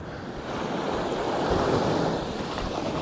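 Sea waves wash around someone wading into the water, a steady rushing surf with wind noise, swelling slightly in the middle, close and without talk.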